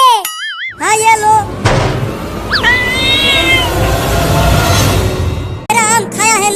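A cat meows loudly and clearly, a few drawn-out calls at the start and end, with a voice and other talk heard between them.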